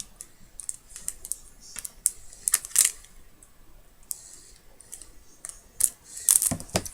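Paper is cut by hand for a handmade card: sharp, irregular snips and small rustles, close and fairly quiet, with short pauses between cuts.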